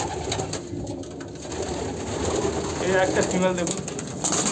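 A female Kalanka pigeon of a pure Andhra bloodline coos softly in a steady low murmur while someone talks briefly over it.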